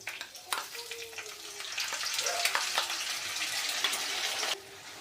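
Ground onion paste hits hot oil and starts sizzling, a steady frying hiss with clinks and scraping of a utensil in the pan.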